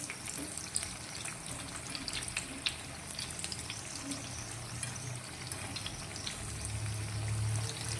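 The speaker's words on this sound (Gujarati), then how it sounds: "આ જ રીતે બંને સાઈડથી તેને સારી રીતે તળી લઈશું" Steady sizzling of a potato and flattened-rice (poha) snack frying in a little hot oil, continuous and close, with soft bubbling crackle and no talking.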